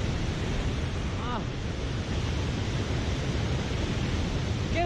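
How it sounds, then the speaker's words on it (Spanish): A roaring waterfall on a river along the Vilatuña trail in Ecuador gives a steady, loud, broadband rush that fills the whole clip without pause, with a brief voice exclamation partway through. "¡Qué brutalidad de cascada, miren!"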